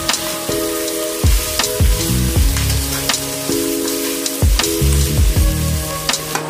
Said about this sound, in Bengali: তো পেঁয়াজটা ভাজা হয়ে গেছে